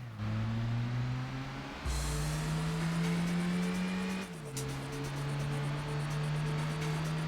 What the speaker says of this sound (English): now we're doing the basics of cornering in a Demio, otherwise known as the Mazda 2 here in the States